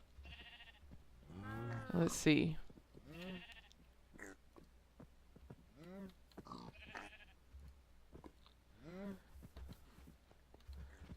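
Sheep bleat repeatedly in a video game, a string of clear, wavering calls spread across the clip. A voice speaks briefly among them.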